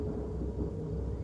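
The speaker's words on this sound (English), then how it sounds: "Oh, thunderstorm." Thunderstorm inside the horror game Fears to Fathom: Carson House, a steady low rumbling wash of thunder and storm noise that fills the short stretch without pause, with no talk over it.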